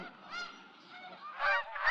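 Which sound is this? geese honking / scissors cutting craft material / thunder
geese honking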